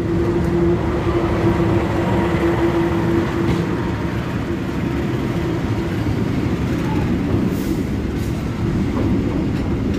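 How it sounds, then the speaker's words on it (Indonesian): A train rolls through a railway junction, a steady loud rumble of wheels and cars sustained throughout, with a faint tonal hum early on. "Ada yang tahu itu kereta apa"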